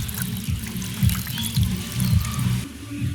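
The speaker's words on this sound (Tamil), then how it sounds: "நான் இதோட இன்னும் கொஞ்சம் தண்ணியை விடுவோம்" Water pours and trickles steadily into a pot of spiced village chicken rasam, a close, continuous splashing stream lasting a few seconds.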